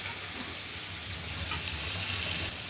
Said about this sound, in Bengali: তো নাড়িয়ে চাড়িয়ে একটা ঢাকনা দিয়ে দিলাম